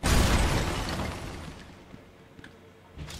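Explosive gel detonating in Batman Arkham Asylum, a single loud blast at the start that rumbles and fades over a few seconds with faint debris sounds after.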